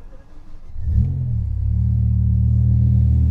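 A 2008 BMW M5 with its naturally aspirated V10 pulls away from rest. After a quiet moment, a deep engine rumble swells and then holds loud and steady from inside the cabin.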